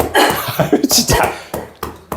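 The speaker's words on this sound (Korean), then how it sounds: "기침 세게." A person coughs hard after choking on a drink, several rough bursts over about two seconds with voices talking around them.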